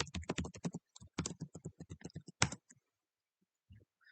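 A password is typed on a computer keyboard as a quick burst of close, crisp key clicks, then a heavier keystroke, then silence apart from one or two faint taps at the end.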